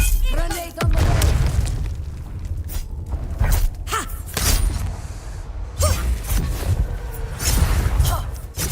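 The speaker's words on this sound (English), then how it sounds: "Grenade on the way." Grenade blast in the Dune Awakening video game, a heavy booming explosion among continuous rumbling combat noise with scattered thuds and impacts.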